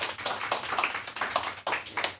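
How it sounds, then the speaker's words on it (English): Audience applause after a talk on exclusion in the built environment, a steady patter of clapping hands with short swells, moderately quiet and heard alone without voices. "let's give them a huge applause"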